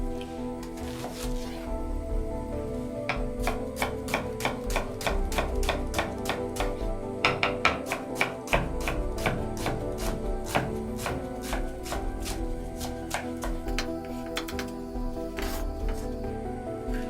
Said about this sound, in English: Chop half onion.